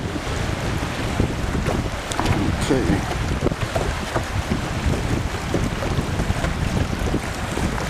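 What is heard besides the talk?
wind and big waves on a northern lake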